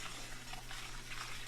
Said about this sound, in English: she's just stirring that to keep it from sticking, but she does want it to brown